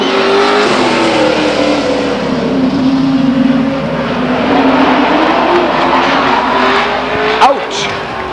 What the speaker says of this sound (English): Oh, he wadded up a bunch of race cars.